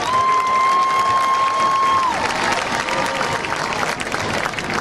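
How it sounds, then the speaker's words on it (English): A stadium crowd applauds the Magnolia High School Marching Band at a high school football game, with steady broad clapping and a sustained tone over it at first. "a big round of applause for the Magnolia High School Marching Band"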